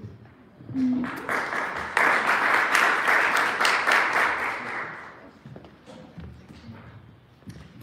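Crowd applause at a launch event in Ethiopia, a dense wash of clapping that swells quickly, holds loud for several seconds, then fades out into scattered claps and murmuring voices.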